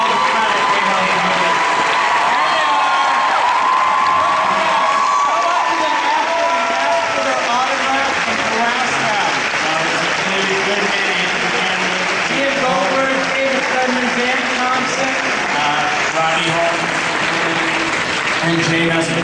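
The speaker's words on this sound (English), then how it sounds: "let's give them a hand" A large Comic-Con panel audience for Once Upon a Time breaks into sustained, loud applause, a dense crowd of clapping that carries on without pause throughout.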